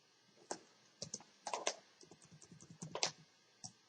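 Typing on a computer keyboard in Microsoft Word, a quiet, irregular run of close key clicks.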